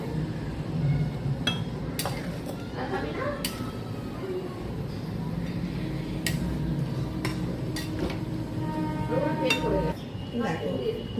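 A spoon scoops a prawn mixture into a hollowed green coconut, making soft scrapes and light clinks at irregular intervals under steady talking.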